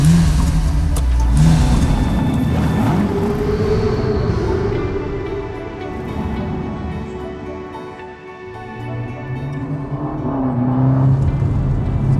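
A Ferrari Amalfi's 3.9-litre twin-turbo V8 fires up and revs, a loud, close engine roar that swells and dips across several throttle blips, with no voices.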